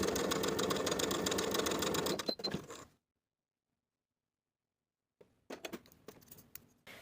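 A sewing machine stitches darts in a skirt, a rapid close mechanical chatter for about two seconds, then silence, then a few short bursts of stitching and handling clicks.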